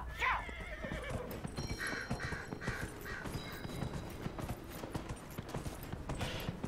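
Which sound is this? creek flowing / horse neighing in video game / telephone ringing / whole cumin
horse neighing in video game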